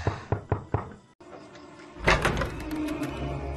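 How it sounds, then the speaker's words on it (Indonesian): Four quick knocks rap on a door, evenly spaced and close by, followed by a short pause and then a louder burst of clattering and rustling noise. "namun dikejutkan oleh ketukan pintu"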